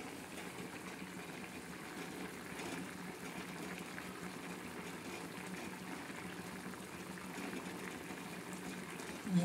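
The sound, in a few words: cabbage curry boiling in a covered pot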